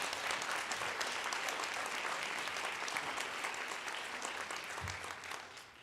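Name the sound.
audience applause at a meeting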